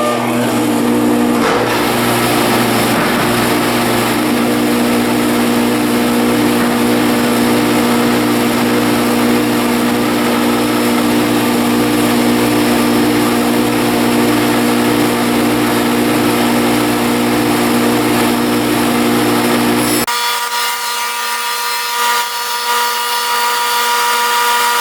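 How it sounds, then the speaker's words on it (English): A power saw fitted with an 80-tooth blade cutting plywood, a loud, steady whining roar that runs for about twenty seconds before dropping to a quieter spin-down hum. "I've got an 80 tooth blade in there, and I'm going to try it and see how it works. Should be pretty good because it is rated for plywood."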